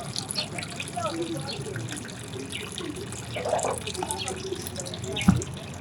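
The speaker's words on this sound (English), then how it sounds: "the water is just spinning around in a clockwise direction as it drains out into the bucket below" Water swirls clockwise as it drains out of a basin into a bucket below at the equator line in Uganda, a continuous trickling gush with small splashes and a sharp knock near the end, fairly close.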